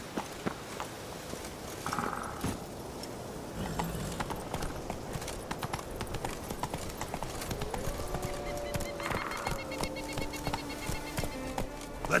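Hooves of Roach, the horse in The Witcher 3, clopping steadily in a rhythmic run across open ground, with game ambience and short musical or effect tones mixed in.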